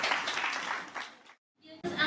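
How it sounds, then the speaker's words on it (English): Audience at a school science presentation breaking into applause, a dense crowd of clapping that fades out, a short silence, then clapping resuming abruptly. "Let's give them a big round of applause."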